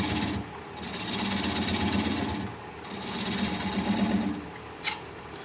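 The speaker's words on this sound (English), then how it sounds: "I'm going to use a 3/8 inch swept-back bowl gouge so that I can get in there closer" Wood lathe turning a cork oak bowl with a 3/8 inch swept-back bowl gouge: a steady, loud whirring drone with rough scraping, easing off twice briefly, then a sharp tick near the end.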